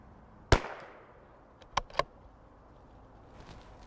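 Shots from a CZ 457 .22LR rifle on a range: one sharp crack, then two more close together a moment later, each leaving a brief fading ring.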